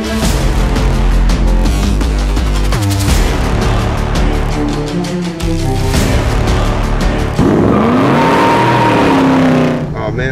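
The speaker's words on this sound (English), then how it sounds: "Oh man, ain't nothing like a Box Chevy" A Box Chevy car engine runs throughout while the car is driven, with loud continuous rumbling and rising revs, and music and a voice play over it.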